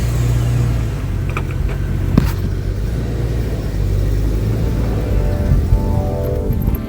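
A topless Jeep's engine rumbles and revs as it pulls away, a steady mid-pitched motor drone with a brief louder burst early on, fairly close and without talk.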